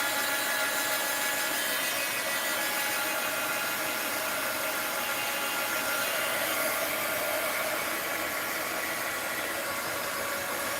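A hair dryer blows steadily close by, drying walnut ink on paper, a continuous loud whooshing roar with no pauses or voices.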